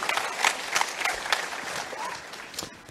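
An audience at a Hadoop Summit 2015 keynote applauds the panelists, with brief scattered clapping that fades fairly quickly at moderate distance.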